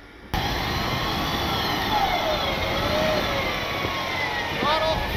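A stranded vehicle's engine revs steadily under throttle, a loud continuous roar with rising and falling whine while people shout directions nearby.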